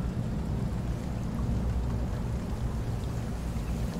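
Crab fishing boat underway at low throttle, a loud steady engine rumble mixed with broadband wash and spray, continuous with no voices.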